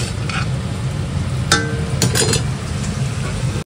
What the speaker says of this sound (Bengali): এই এখানে আলুর দমের মশলা কষানো হচ্ছে, মাই করছে, আর আলুগুলো ভাজা হচ্ছে।